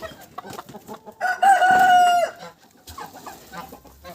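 Geese and chickens squawk and cluck loudly, with a sustained shrill squeal rising over the busy flock chatter, then settling back into scattered clucks.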